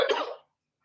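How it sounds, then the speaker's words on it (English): A single short, harsh cough from a person with a lingering cough, close and fairly quiet, lasting under half a second before silence. "I always have the coughing afterwards."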